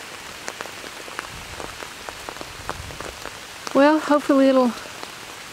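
Heavy rain pours steadily onto a vegetable garden with tomato plants, a dense continuous patter of drops, while someone speaks briefly near the end.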